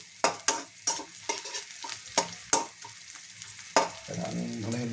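Ginger browns in a pan with a soft sizzle under repeated sharp scraping strokes of a spatula, roughly every half second, close and moderately quiet; no talking.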